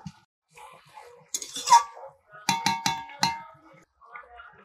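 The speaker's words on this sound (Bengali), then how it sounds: "ভেজে রাখা আলুগুলো দিয়ে দিচ্ছি" Fried potatoes go into a pot of chicken curry with several close metallic clinks and knocks of a utensil against the pot, clustered in a quick series amid quiet kitchen sounds.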